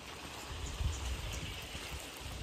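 Rain falling at Panhala fort in Kolhapur, a steady, dense wash of drops with a faint low rumble, constant and even throughout.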